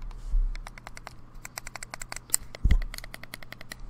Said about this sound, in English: So that was all three buttons, including the fire button.